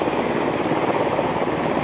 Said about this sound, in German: Da sieht man einen Black Hawk Helikopter.